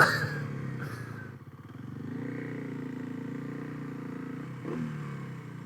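A small motorcycle engine running close by with a thin, buzzy drone, a brief dip and clatter early on, then a steady hum with a slight rise near the end.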